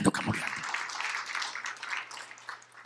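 Church congregation applauding during a sermon, a dense wash of clapping that fills the short stretch at moderate volume, with a brief voice at the very start.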